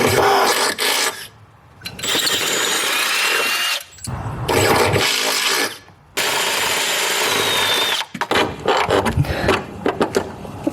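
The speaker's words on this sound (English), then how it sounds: "Maybe we can drill that from the other side, now that we've got a hole." Power drill boring holes through car bodywork for a clutch pedal on a Lexus IS300 manual swap, loud whirring bursts with brief pauses between them, close and grinding, no talking.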